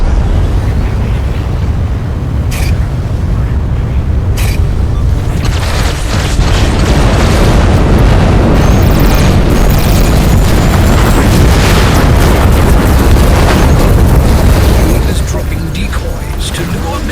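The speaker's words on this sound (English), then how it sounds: "Missiles away from the freighters." Missile explosions in the space combat game Everspace 2 rumble loudly and continuously, with booms and bursts layered over a dense, roaring low-end mix.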